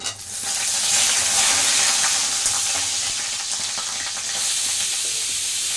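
Dried red chillies and garlic frying in hot oil with asafoetida, a steady close sizzle and crackle that continues throughout, with no speech.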